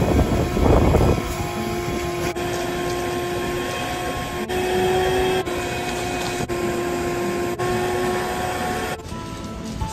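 A vacuum sucking water out of a grain bin pit runs loudly and steadily with a whining drone, periodically interrupted by brief gurgling dips as it draws in water.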